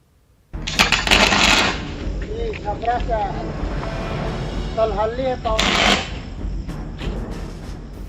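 A street electrical transformer in an urban neighbourhood of Danapur spits out sparks, giving two loud, sharp crackling bursts several seconds apart, with a voice talking in between.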